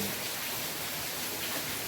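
Heavy monsoon downpour in Surat, a steady, dense hiss of rain falling close by without pause, with no voices over it.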